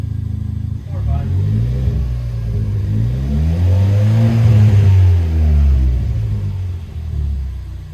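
A Ford Fiesta ST with an MBRP exhaust system, still somewhat cold, revs up close and loud from a steady rumble, climbs to a peak mid-clip and then settles back down.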